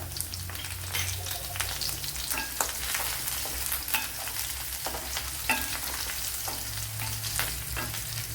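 Ginger and green chillies fry hard in a pan with a loud, continuous, dense sizzle, and irregular stirring scrapes sound through it. The sound is close and steady throughout, with no talk.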